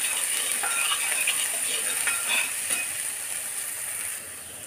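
Crushed green chillies fry in a pan for a Kerala dried-meat dish, making a bright continuous hiss and sizzle with light stirring taps that eases off slightly toward the end.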